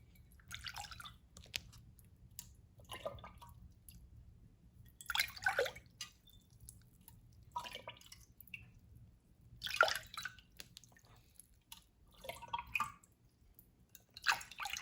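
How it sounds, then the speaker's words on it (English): Quiet, intermittent splashes and drips as dirty water is scooped out of a goldfish bowl with a small container in short bursts, with pauses of near silence between each scoop. "I'm going to scoop out some of the dirty water"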